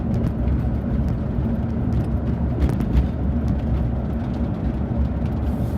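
A car driving slowly through the South of the Border roadside tourist stop on the South/North Carolina line, a steady, fairly loud interior engine and road rumble with no talking.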